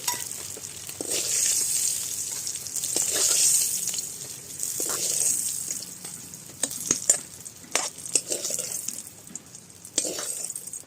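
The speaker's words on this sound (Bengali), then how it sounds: "ভাজা তেলের মধ্যে দিয়ে শুকনো লঙ্কা দিলাম" Dried red chillies sizzle in hot frying oil left over from frying fish, with a steady crackling hiss and occasional clinks of a spatula against the pan.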